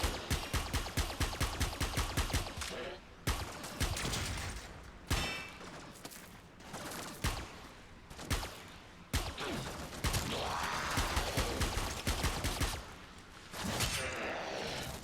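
Braton rifle gunfire in a sci-fi video game, bursts of rapid repeated shots in several volleys with brief pauses between them, fairly loud and dense, with no talking over the firing.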